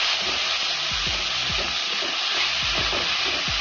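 Onions and chilli frying in a pan with a constant hissing sizzle, joined by a few low knocks and scrapes from stirring.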